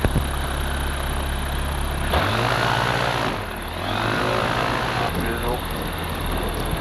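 A light propeller airplane on a grass runway holds a loud, steady engine drone, with the pitch shifting as power rises for takeoff. Voices can be heard over the engine.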